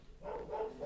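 A dog barks indoors, a couple of short, muffled yips heard at moderate distance in a quiet room.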